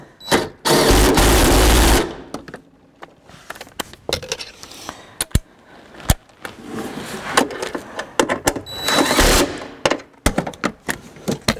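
A 10 mm bolt is tightened while a seat belt is removed from a 2012 Subaru Forester. A loud two-second burst of rapid ratchet clicking is followed by scattered clicks and clunks, then another short, sharp burst near the end.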